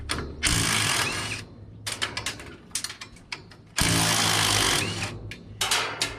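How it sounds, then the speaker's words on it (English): A half-inch or 13mm swivel socket on a power tool spins bolts out of a baler, two long loud buzzing runs separated by clanks and metallic handling knocks, up close. "I brought a 1/2 inch deep socket and a 1/2 inch swivel socket, or 13mm swivel socket"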